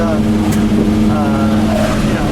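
A steady, smooth engine drone from a 1963 Pontiac Catalina 421 four-speed hums continuously while cruising, loud and close, with a constant low tone and no talking over it.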